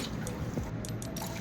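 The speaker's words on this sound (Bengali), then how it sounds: "কষিয়ে নেওয়ার পর এবার দিয়ে দেবো জল।" Water goes into a pot of potato curry, a steady close liquid pour and gurgle with small splashes and drips near the end.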